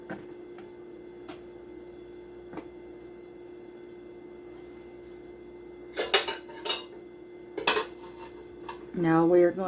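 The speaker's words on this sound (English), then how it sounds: "I'm still going to take a butter knife because this gets it down into the cake." A butter knife swirls through cinnamon roll cake batter in a pan, giving faint scattered scrapes and clinks against a low steady kitchen hum, with a louder burst of scraping at the end.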